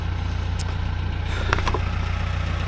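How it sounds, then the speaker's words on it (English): A tractor engine warms up at a muddy shed site, a steady low idle rumble holding through the short stretch with a few faint clanks over it. "you probably hear the tractor warming up in the background"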